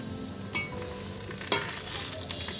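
Potatoes frying for a meat curry over a wood fire, a steady close sizzle broken by a couple of sharp stirring scrapes.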